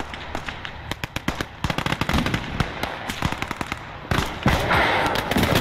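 Rapid gunfire bursts and heavy cannon blasts in the World War II strategy game Call to Arms – Gates of Hell: Ostfront, with dense overlapping shots building into a sustained roar of battle near the end.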